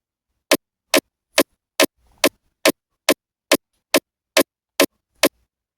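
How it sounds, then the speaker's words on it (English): Eleven short, sharp percussive transients from a layered snare and cowbell sample in FL Studio strike at a steady even pace, each a dry clicky snap with silence between them. "Here's what the transient from the snare and cowbell sound like together."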